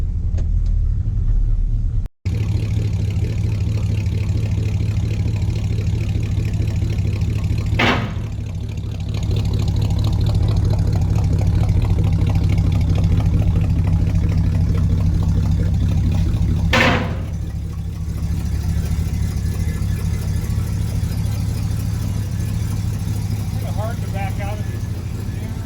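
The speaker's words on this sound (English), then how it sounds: "we'll pop her in neutral first, let that transmission warm up for a minute, and then we'll hit the road" 1966 Dodge Monaco 500 with a 440 V8 warming up in neutral, a steady low rumbling idle broken by a sharp click early on and two brief mechanical bursts, close and continuous.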